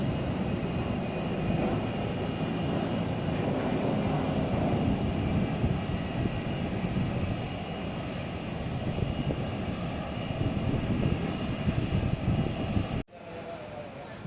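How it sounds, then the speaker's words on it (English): An airplane takes off at KLIA 2 airport in Kuala Lumpur, its jet roar a steady broad rumble that continues for a long stretch before cutting abruptly and giving way to quieter background noise. "let's look at that plane. It's taking off, so it's going to somewhere."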